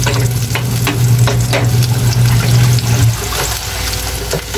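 Rekado for fish bagoong sautéing in a hot pan, a steady loud sizzle with stirring scrapes running throughout, easing slightly toward the end.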